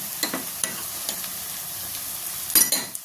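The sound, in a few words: ginger garlic paste added to frying onions, sizzling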